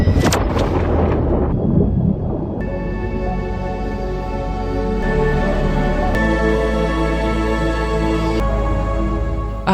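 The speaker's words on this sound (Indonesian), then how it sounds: "Akhirnya berkat ledakan itu, Kraken pun berhasil dilumpuhkan dan Joanna bisa selamat." A film-scene explosion disables the Kraken, a huge rumbling blast bursting at the start and then rolling on as a long, deep roar with debris and echoing booms that continue for several seconds.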